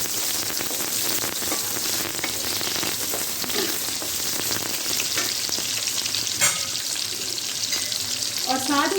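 Chopped onions hit hot cooking oil in a kadhai with a steady, loud crackling sizzle. Bursts of spatter and stirring clatter rise briefly toward the end.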